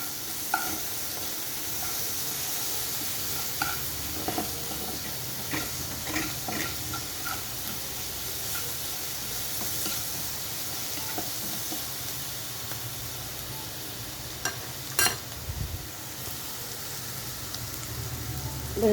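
Onions sizzling with sugar in a pan, a steady soft hiss with occasional light clicks and stirring scrapes, fairly quiet and continuous.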